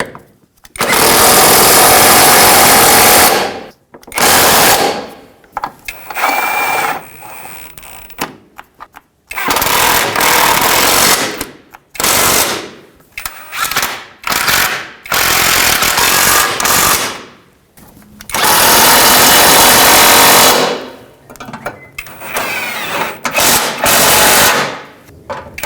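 A power tool drives subframe bolts on a 2012-2017 Toyota Camry front suspension, firing in several loud, rattling bursts of a few seconds each, separated by brief pauses and short taps.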